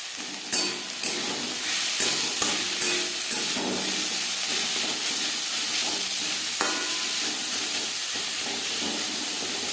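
Vegetables fry in a pan with spices, onion and garlic, giving a steady close hiss and sizzle broken by occasional scrapes and clinks of stirring, with no voices.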